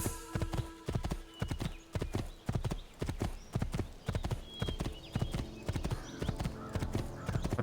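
Horse hooves clip-clop in a steady, rhythmic trot in Assassin's Creed II, close and clear, with a faint whinny and ambient game sounds.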